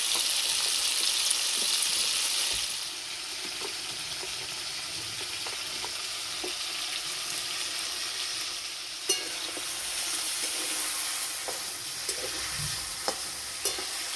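Chicken pieces sizzle in a pan as they fry, a continuous crackling hiss that eases after a few seconds, punctuated by sporadic spatula knocks and stirring scrapes.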